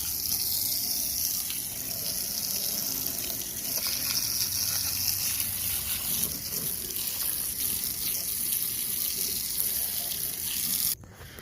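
Water runs steadily from a small garden hose outdoors, a continuous close splashing gush that carries on for several seconds before cutting off abruptly.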